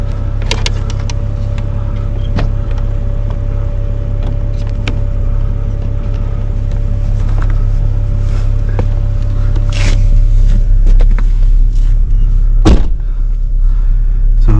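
An electric winch hauls a vehicle still in gear, giving a loud, steady motor drone with a constant low hum throughout, broken by a few clanks and one sharp knock near the end, and nobody speaking.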